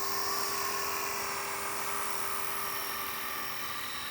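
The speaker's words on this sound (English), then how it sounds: "So without further ado, let's fly the Eclipse 360." A Blade Eclipse 360 RC helicopter flies in normal stability mode, its high, steady electric whine and rotor buzz continuous and fairly close throughout, with no talking.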